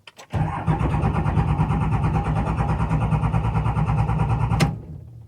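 A car engine cranking with no throttle applied: after a couple of clicks, a loud, continuous rhythmic churning of the starter runs for about four seconds without catching, then cuts off abruptly.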